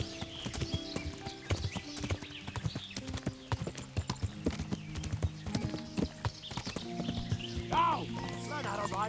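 Horse hooves clip-clop in a steady, busy gallop through the medieval game Kingdom Come: Deliverance, close and loud, with a brief whinny near the end and voices talking over the ride.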